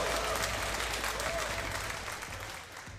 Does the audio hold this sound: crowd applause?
yes